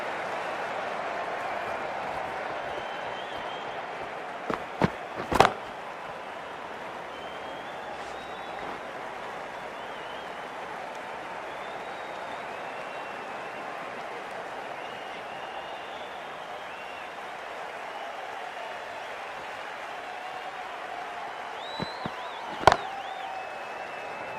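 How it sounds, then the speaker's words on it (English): A cricket stadium crowd keeps up a broad, steady roar of cheering and applause throughout the long stretch, with a few sharp loud cracks standing out near the start and again near the end. "There's a buzz, a real buzz coming from the stands."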